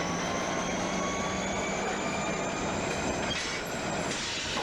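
A CP Rail freight train grinds up the steep Rogers Pass grade near Stoney siding, a loud continuous roar of rolling cars with high wheel squeal running steadily throughout.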